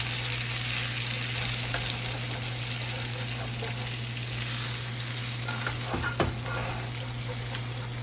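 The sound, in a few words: NY strip steak searing in a cast iron pan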